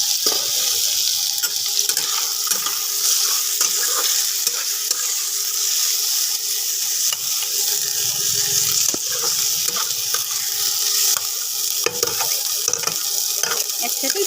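Boiled potatoes and peas tipped into a hot frying pan for a Bengali cabbage dish, giving a steady loud sizzle with scraping stir strokes and brief clatters throughout.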